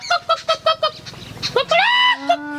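Several roosters and fowl stray into a farm field, giving a run of short repeated calls followed by a longer drawn-out crowing cry, fairly close, with a voice briefly mixed in.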